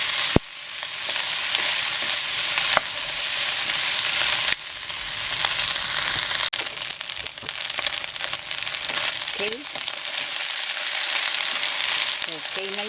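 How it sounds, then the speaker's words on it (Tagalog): Macaroni being stirred in a pot for sopas, loud continuous sizzling and frying with scraping utensil strokes and occasional clanks, no talk. "haluin natin siya para yung macaroni ay magsama-sama sila dito"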